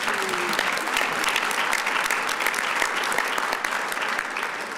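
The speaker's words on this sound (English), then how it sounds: "Let's give her another round of applause" Sustained audience applause at a Tampa Black History celebration, a dense steady clatter of many hands clapping close by with faint crowd noise, carrying on evenly throughout.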